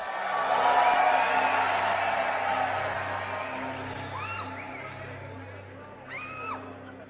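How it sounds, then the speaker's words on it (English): A large crowd at the Tesla Cybertruck reveal cheers, whoops and murmurs in a broad, sustained wash that slowly fades, with a few sharp whistles and shouts rising near the end. "listen to the crowd carefully for the next minute or so"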